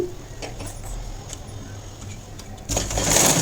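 Sewing machine stitching a plain blouse, a steady close mechanical whir with faint ticking that picks up and gets louder toward the end.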